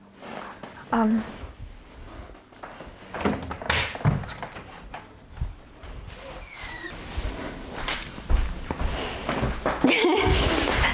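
Several thuds and knocks of a door being handled, mixed with shuffling movement and faint voices in the background, at moderate distance.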